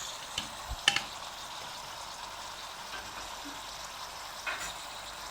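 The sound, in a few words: beef with spices being fried in a pot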